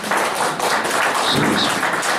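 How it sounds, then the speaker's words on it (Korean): A church congregation applauds after a hymn of praise, a steady dense wash of clapping hands from many people throughout. "큰 박수로 격려의 박수 부탁드립니다"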